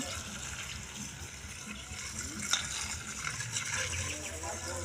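Water is poured while pig feed is being prepared, a steady splashing gush running throughout the clip with people talking over it.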